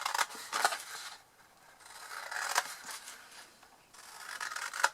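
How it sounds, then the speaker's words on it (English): Scissors slicing up the sides of a cardboard box: long scraping, rasping cuts in three close, loud strokes with brief pauses between them, no speech. "So we're simply going to cut up the sides here."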